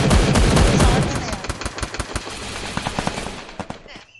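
In the Free Fire video game, a dense burst of loud gunfire opens, then gives way to a rapid series of sharp separate shots that taper off toward the end.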